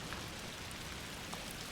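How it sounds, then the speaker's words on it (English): Steady rainfall in the video game A Plague Tale: Requiem, a dense even hiss of drops on surfaces with occasional brighter splashes, continuous and fairly quiet with no voices. "Oh, rain chapter."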